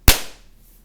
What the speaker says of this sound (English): and we'll get a little explosion.